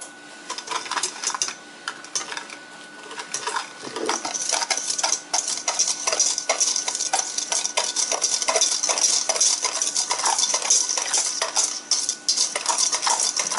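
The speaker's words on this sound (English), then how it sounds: "So I'm just going to mix that all up together with my little whisk here." Sugar, nutmeg and spices being mixed with a small whisk in a bowl for apple pie filling: rapid, continuous light clinking and tapping of metal against the bowl, close and steady.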